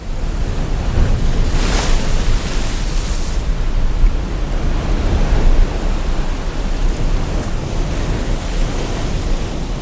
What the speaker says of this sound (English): on Irish coast, you will have among these 10 layers one dedicated to the ocean and the waves.